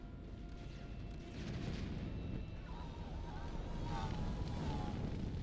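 Battleship return fire in a naval combat game, heavy low rumbling booms rolling under continuous battle noise at moderate level, with faint tonal whines above.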